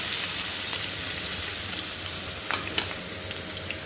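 Ground ginger and chili paste fries in hot oil in a pan for a Kerala-style chicken curry, a steady loud sizzle and hiss broken by a few light stirring clicks.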